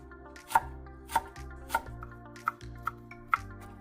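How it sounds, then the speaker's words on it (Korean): A kitchen knife chops wild chives (dallae) on a cutting board with six or seven distinct, evenly spaced knocks, close and clear, over a steady low background hum. "칼등으로 살살 달래를 두드려준 후 먹기 좋게 썰어주세요."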